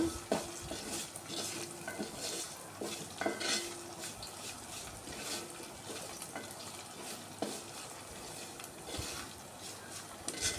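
Onion and green chilli frying in a pan for a capsicum tomato curry, with a steady soft sizzle and repeated scraping and clinking of a spoon stirring against the metal pan, no talking.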